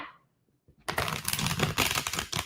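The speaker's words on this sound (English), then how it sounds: "One more shuffle." Tarot cards are shuffled close up after a brief quiet pause, giving a dense, rapid riffling and flapping rattle that continues to the end.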